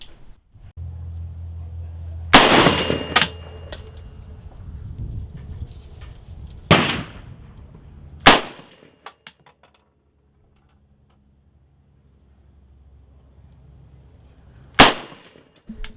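Arsenal SLR-104UR Krinkov rifle fires 5.45x39 60-grain full metal jacket rounds outdoors: loud sharp cracks spaced several seconds apart, each with a short decaying tail over faint background rumble.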